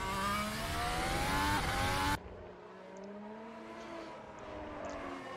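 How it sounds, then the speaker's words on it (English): A Honda-powered Formula 1 car's high-pitched engine whines past loudly at Baku City Circuit, then cuts away to a quieter, more distant engine drone. "As you can hear the Honda passing there, the Mercedes powered racing frontier."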